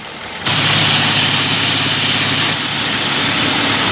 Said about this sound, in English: The cavalry arrives, not on horseback, but on rusting tractors.